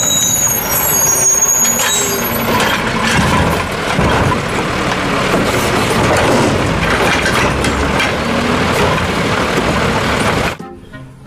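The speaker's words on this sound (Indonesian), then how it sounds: "Di sini ada mobil pengangkut sampah." A garbage truck's engine rumbles loudly and steadily with a hiss of air brakes, a dense noisy roar that continues without talk and cuts off abruptly near the end.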